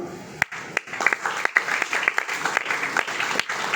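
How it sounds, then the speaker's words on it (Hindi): An audience at a school topper felicitation program claps to welcome a guest onto the stage, with scattered, distinct hand claps rising and falling in an uneven, lively patter throughout. "जोरदार तालियों के साथ स्वागत कीजिए डॉक्टर यास्मीन पठान साहिबा को।"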